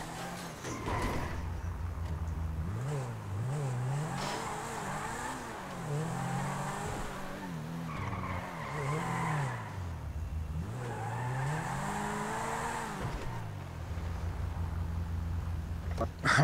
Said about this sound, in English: This is a drifting car